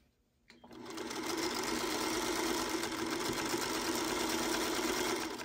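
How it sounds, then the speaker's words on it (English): After a brief moment of quiet, a home sewing machine starts up and runs at a steady even whir, stitching seams on a 5-inch quilt block, close and continuous with no voices. "I normally like to sew with the seam up if I can."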